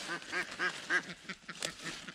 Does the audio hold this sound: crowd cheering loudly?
no